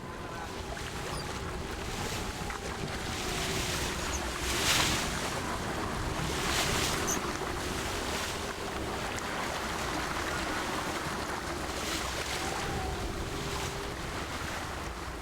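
A fishing boat squeezes through a narrow passage between rocks amid steady wave surge and wind buffeting, with a low engine hum running underneath and a brief heavier splash midway, no voices.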